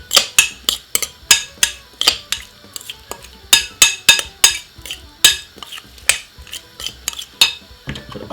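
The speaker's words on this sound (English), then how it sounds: "And give it a nice lovely stir like this." A utensil scrapes and clinks against a bowl while salmon is stirred with olive oil and pepper, sharp irregular taps at close range, about two or three a second.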